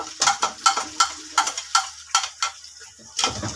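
A paste of tomato, garlic, ginger and green chili sizzles and crackles in a pan, with repeated stirring scrapes in a steady rhythm, close by and with no voices.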